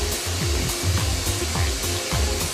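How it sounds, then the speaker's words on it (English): A loud, steady blasting hiss of sand sprayed at about 4 bars of pressure onto jeans, with rhythmic mechanical pulsing underneath, close and continuous. "A worker sprays a pair with about 1 kilo of sand at 4 bars of pressure"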